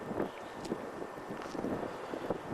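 Blustery wind buffets the microphone at Sunrise Point, around 7,800 feet up, a steady rushing roar with gusty swells and no talking.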